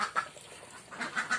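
Several egg-laying ducks in a farm pen give a few sharp quacks and honks, near and moderately loud, with short gaps between calls and no speech.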